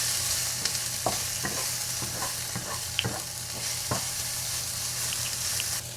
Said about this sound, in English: And our garlic. Just going to saute this for a second.